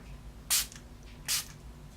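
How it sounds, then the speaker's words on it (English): Two quick hissing bursts of makeup setting spray, close and short, separated by about a second of quiet. "I'm using the Dewey setting spray from Ulta."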